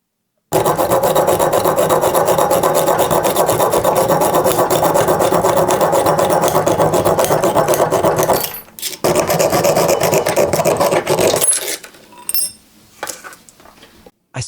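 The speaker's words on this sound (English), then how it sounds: "I sawed off all the excess and now I need to shape it with a file." Sawing and filing an aluminum fork, loud continuous rhythmic rasping strokes of metal on metal, then a brief pause, more rasping, and scattered scrapes and knocks at the end.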